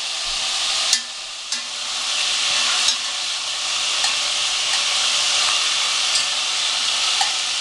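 Seasoned meatballs for a Moroccan tagine sizzle steadily in a pan, a loud continuous frying hiss punctuated by occasional clicks and taps as they are turned.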